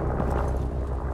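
An explosive charge goes off in Rainbow Six Siege as a short, heavy, low boom that rumbles for about a second, with no speech.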